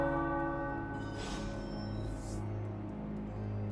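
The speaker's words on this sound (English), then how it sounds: "The bells." Deep church-style bells toll in a video game, sounding as layered resonant tones with a low sustained hum beneath. A couple of brighter swells pass over them, and the bells are moderately loud with no talking.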